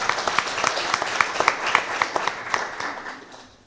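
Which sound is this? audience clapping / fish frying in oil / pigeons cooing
audience clapping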